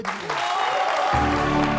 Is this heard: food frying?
no